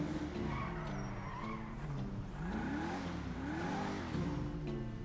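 Engine revving with tires skidding as a car drives in Grand Theft Auto V, a steady loud drone of rising and falling motor pitch with squealing sweeps throughout, no talking.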